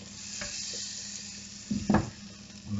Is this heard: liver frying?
yes